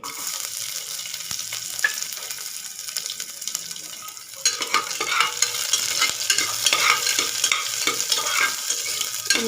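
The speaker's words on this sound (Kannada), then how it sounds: "ಚೆನ್ನಾಗಿ ಫ್ರೈ ಮಾಡ್ಕೊಳ್ಳೋಣ" Curry leaves, onion and garlic fry in a pan with a steady sizzle, while a spoon stirs and scrapes repeatedly and grows louder and busier partway through.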